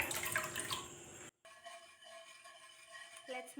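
Water splashes and trickles as 2.5 cups are poured into a pan on a stove while making Bombay halwa, a steady close pour that continues after a short cut in the audio.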